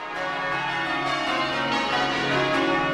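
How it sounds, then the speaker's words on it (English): Church bells ring from a tower in a stereo feed during a national twelve-bell broadcast, a continuous overlapping peal of sustained metallic tones at steady loudness with no talking over it. "Stereo bells."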